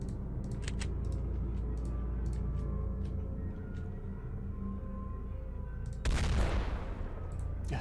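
Gunfire in The X-COM Files, a modded X-COM strategy game: scattered sharp single shots over a steady low hum, then a louder burst of shots near the end.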